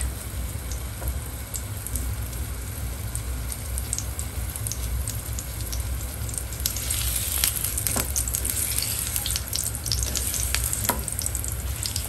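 Two slices of ginger fry in a frying pan with a dense, constant sizzle and popping crackle, growing slightly busier toward the end, with no talking.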